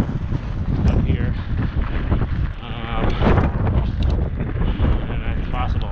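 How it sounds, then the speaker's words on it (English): Gusty wind buffets the microphone outdoors on a sidewalk in sleet, a loud, steady low rumble that persists throughout, with a voice talking over it. "The wind is not too awful bad."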